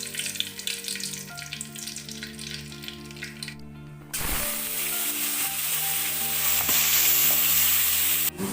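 Cinnamon, cloves and cardamom go into hot oil for an egg curry, setting off a sudden loud, steady sizzle that keeps crackling for several seconds after a quieter stretch with a faint tonal hum.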